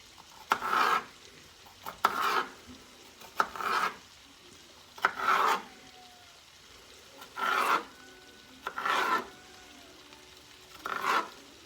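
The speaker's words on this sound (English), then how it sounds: "I didn't have room on my cutting board for the celery also, so I'm going to cut it up now" Knife slicing celery thinly on a cutting board for corn chowder, a series of about eight soft, crunchy cutting bursts evenly spaced at close range with quiet pauses between.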